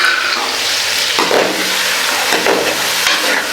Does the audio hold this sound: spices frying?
yes